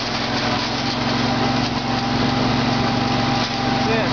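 Honda Z50 minibike engine climbing a hill under load, a steady, buzzy small-engine drone with a light whine, heard close and continuous without pauses.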